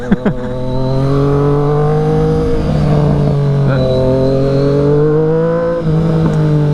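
A Triumph Street Triple RS motorcycle engine running loud and close while ridden through city streets, holding a steady, strongly harmonic drone with slight pitch rises and dips as the revs shift, after a brief blip at the start.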